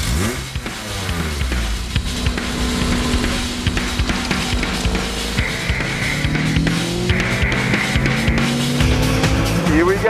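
An Ariel Atom, a 300-horsepower open sports car, fires up and pulls away, its engine roaring and revving hard through rising gear sweeps, loud and close, with a voice briefly heard under the noise.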